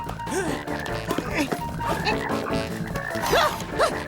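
A cartoon toad croaks in short, repeated calls amid a busy animated soundtrack, with voices and other effects mixed in around it.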